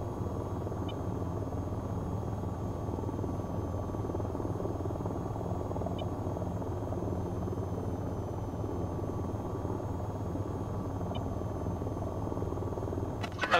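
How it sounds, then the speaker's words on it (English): A helicopter idles and runs in the VTOL VR flight game, a continuous low droning rotor and engine rumble with a faint steady whine above it, unchanging and close, with a few tiny blips and no speech. "Okay, pilot, shut down the helicopter."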